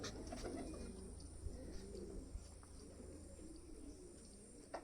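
Faint, low cooing of racing pigeons repeats in a soft, steady rhythm against quiet background noise, with no one speaking.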